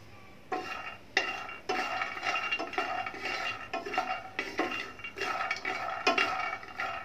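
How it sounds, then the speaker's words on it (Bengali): Peanuts are stirred and dry-roasted in a pan over a medium gas flame, giving repeated scraping, rattling strokes in an uneven rhythm, close up and moderately loud, with no voice. "বাদামগুলোকে আমি 3-4 মিনিট ধরে এভাবে নেড়ে চেড়ে ভেজে নেব।"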